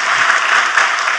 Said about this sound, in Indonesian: Ayo kita kasih tepuk tangan yang paling meriah buat Tuhan kita.